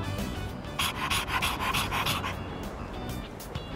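Koromaru the dog from Persona 3 Reload panting in quick rhythmic breaths, close and clear, easing slightly toward the end.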